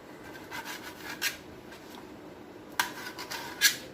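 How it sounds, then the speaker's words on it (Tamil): Knife rasping through the crusty edges of bread slices while trimming them for Shahi Tukda, a few soft scraping strokes with sharper cuts near the end, close and quiet, with no talking. "ப்ரெட்டோட இந்த எட்ஜஸ்லாம் நல்லா கட் பண்ணி எடுத்துக்கோங்க."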